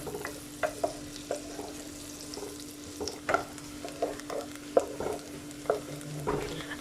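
Finely chopped onion frying in a pan until translucent, a low continuous sizzle broken by frequent scraping taps of a spatula stirring at an uneven rhythm, close and fairly quiet.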